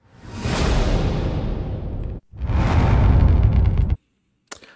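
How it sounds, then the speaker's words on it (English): Two long, loud cinematic whooshes from a trailer sound-effects library sweep through one after another, each swelling and then cut off sharply, followed by a brief faint tail. "Those are whoosh hits, and finally whooshes."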